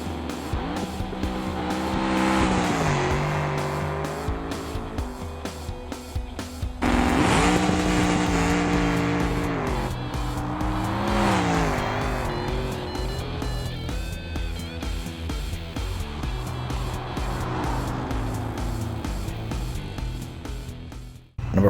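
A twin turbo Bruckell Moonhawk drag races down a quarter-mile straight in the video game BeamNG, its engine roaring loudly and continuously through rising gear pulls with sharp shifts, tires squealing throughout.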